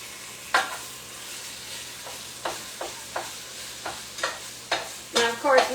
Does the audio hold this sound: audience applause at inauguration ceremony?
no